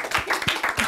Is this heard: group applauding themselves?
yes